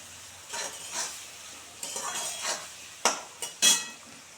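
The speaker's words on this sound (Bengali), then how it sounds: "আলুটা ভালো করে একটু সুন্দর করে ভেজে নিই দু মিনিট ধরে একদম লাল করে ভেজে নেব" Potatoes and onions fry quietly in a pan, stirred with a few soft scraping strokes and then several sharper clinks of the utensil against the metal, close and fairly faint.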